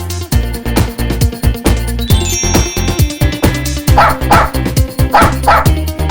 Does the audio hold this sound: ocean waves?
no